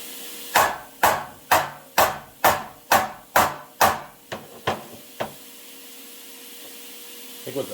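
Hammer blows on a metal side scoop panel for a Superbee, about a dozen sharp ringing strikes in steady rhythm, the last few lighter and spaced out before a quiet workshop hum.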